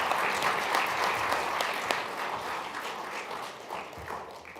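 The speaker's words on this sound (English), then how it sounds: "we should clap about that too" A church audience at a presentation claps for a coming wedding, a busy, fairly close patter of many hands with a few sharper individual claps, gradually easing in loudness toward the end.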